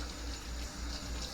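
Hot water runs steadily from a kitchen tap into the sink, a constant broadband rush with a low rumble, close and fairly loud with no pauses.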